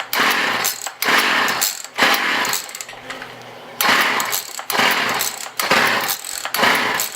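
An Echo CS 330T chainsaw under repair is pulled over repeatedly with its recoil starter, loud rhythmic rasping bursts about once a second, broken by a brief quieter pause, without catching or talk.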